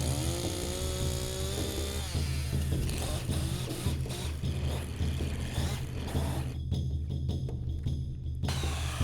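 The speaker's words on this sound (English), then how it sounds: "I'm using a 2-inch tenon cutter to cut" A power drill with a 2-inch tenon cutter whines and grinds through log bench legs in a continuous, rough buzz, the pitch shifting under load, then cutting out into choppy bursts.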